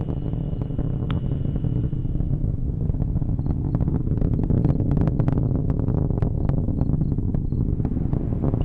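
An Atlas V rocket with solid boosters climbs during the Juno launch to Jupiter, heard as a continuous, loud, crackling broadband roar that stays steady throughout.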